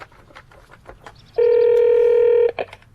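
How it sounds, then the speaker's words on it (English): A telephone being dialed, with faint clicks and then a single steady electronic tone lasting about a second, loud and close, followed by a short blip. "let me just phone Mum first"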